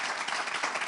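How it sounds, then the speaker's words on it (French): Short burst of dense audience clapping in a French game-show studio, steady and close, with no voices over it. "on peut applaudir pour bienvenue"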